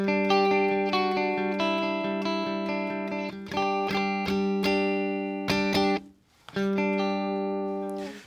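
Electric guitar with a spacious reverb effect, sent in stereo through two amps, rings out a sequence of sustained notes with a lingering tail. A brief pause is followed by a fresh chord that swells back in.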